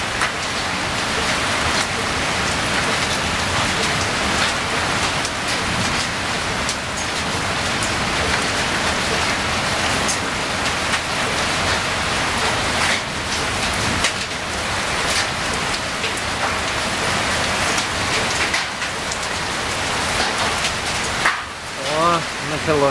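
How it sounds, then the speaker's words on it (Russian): Heavy rain pours steadily during an electrical thunderstorm, a dense continuous hiss of drops on surfaces with occasional louder bursts, and a voice speaks briefly near the end. "Сейчас пойдет град опять."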